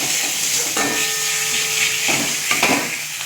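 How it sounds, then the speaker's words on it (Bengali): Spice paste with turmeric, cumin powder and chopped tomato sizzles and hisses in a pan as it is stirred and fried, a steady close sizzle with a scraping stir partway through, no talking. "এবার মশলা আমি খুব ভালো করে কষিয়ে নেব।"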